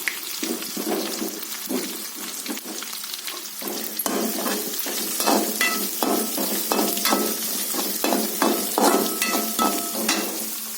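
One large onion fries in hot oil in a pan for a kuchi kizhangu tempering dish, a continuous crackling sizzle broken by repeated stirring strokes, close and moderately loud, with no talking.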